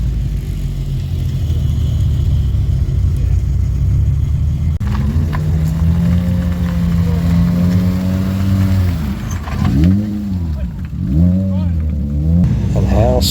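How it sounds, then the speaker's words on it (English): Racing car engines rev hard on the Brooklands track during a motorsports day, loud sweeping roars rising and falling as cars accelerate past, with a speaking voice over the steady rumble at first. "I just want you to hear the engines being opened up"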